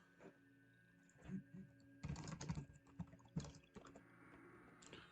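Computer keyboard typing in short bursts of clicks and taps, moderately close and fairly quiet, with a denser flurry in the middle and no talking.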